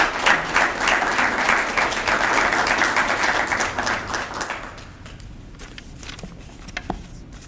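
An audience applauds at a school district event announcing a new athletic director: loud, sustained clapping from a crowd in an indoor hall that thins out and fades into scattered claps and shuffling.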